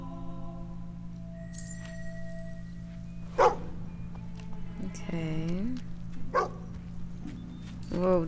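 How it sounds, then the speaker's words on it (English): A dog in the video game Fable 2 barks a couple of times among ambient game tones and a steady hum, fairly close, with a whimpering yelp mixed in and no clear talk. "Dog bark."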